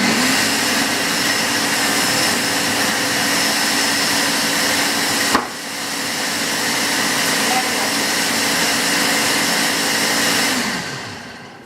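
A blender spins steadily while blending a green smoothie, a loud continuous whirring motor that holds nearly level throughout, with one brief dip midway before resuming and trailing off at the end.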